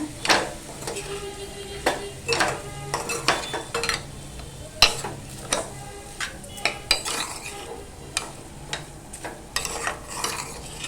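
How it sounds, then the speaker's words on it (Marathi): A fasting potato dish with coriander is stirred and mixed in a pan, with repeated spoon scrapes and metallic clinks against the pan over a soft sizzle, in uneven bursts close by. "आता एकदा आहे ना सर्व असं मिक्स करून घेऊया"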